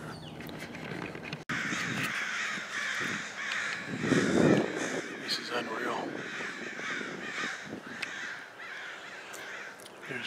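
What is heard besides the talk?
flock of crows cawing overhead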